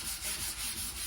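Rhythmic abrasive rubbing as 120-grit sandpaper works the rusty metal bodywork of a VW T3 panel van, a stroke repeated back and forth at a steady pace, close and fairly loud.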